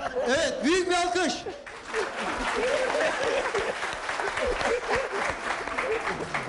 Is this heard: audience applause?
yes